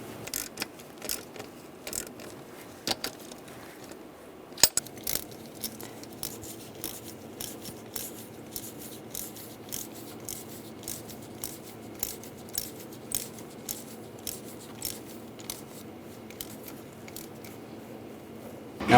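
A ratchet snugs down the thermostat housing bolts on a 2006-2009 Mercedes-Benz E350, producing a long run of close, crisp metallic clicks in short irregular bursts.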